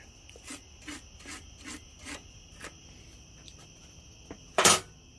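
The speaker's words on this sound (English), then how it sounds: "Always use the brass brush or steel brush, whatever you want to use to clear up the threads." A brass or steel brush scrubs the threads on a Yamaha DT400 motorcycle in a series of about six short, rhythmic rasping strokes, followed by one louder, harsher scrape near the end.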